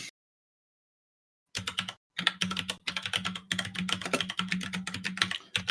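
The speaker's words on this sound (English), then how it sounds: "I hear some typing going on" Someone types on a computer keyboard nearby after a brief silence: rapid, uneven clusters of crisp key clicks with a faint steady hum beneath, no talking.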